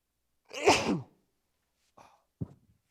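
A single loud, close sneeze bursts out in a quiet classroom, followed by two faint knocks.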